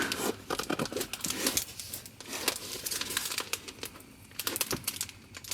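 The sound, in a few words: tape being torn off a package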